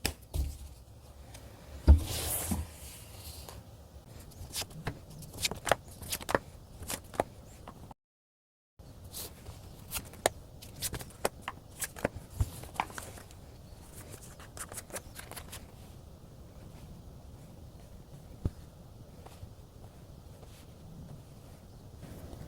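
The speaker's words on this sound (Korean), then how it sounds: "먼저 1번 분의 상대방 분이 1번 분에게 가지는 현재 속마음 무엇인지 카드로" Tarot cards are shuffled and drawn by hand in quiet surroundings, giving sharp papery snaps and rustles in irregular bursts, broken by one short silent gap, with no talking.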